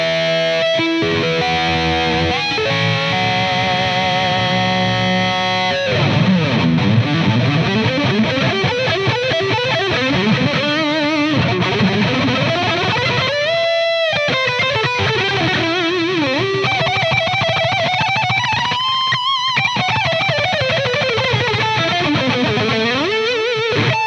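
A Fender Japan Michiya Haruhata signature Stratocaster played through heavy high-gain distortion, close and loud, moving from held chords into fluid lead lines with bends and legato runs, with no talking over the playing.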